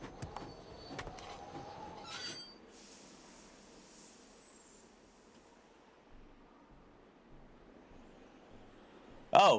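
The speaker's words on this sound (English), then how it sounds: "Sounds like the train's leaving." A departing train in a Nancy Drew video game: a steady low rumble and broad hiss of steam rolling on for several seconds, with a sharp clank at the start and a loud burst at the very end.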